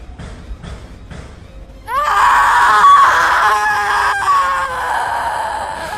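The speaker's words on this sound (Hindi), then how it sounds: "छलावा ने चीख मारी" Creature's shrill, wailing scream as a horror-story sound effect, bursting in loud after a quieter stretch and sustained close for several seconds, with no voices.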